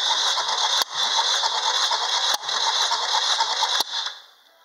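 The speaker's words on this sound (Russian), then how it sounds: "Замер компрессии Honda Civic 4D, 2011 год." A 2011 Honda Civic 4D with a 1.8 engine cranks during a compression test, the starter churning in three close, loud bursts with a steady pulsing rhythm and sharp cut-offs between them, then fading out.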